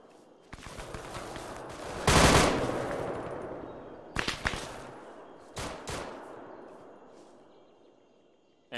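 Sustained machine-gun and rifle fire from an ambush in the Vietnam-era military game Arma 3, with a loud opening burst, then further sharp volleys and bursts that trail off into a long, echoing decay.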